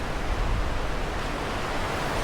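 Steady broadband surf washes continuously at Avila Beach, California, a constant wide roar from waves breaking near a pier, with light wind noise on the microphone and no voices.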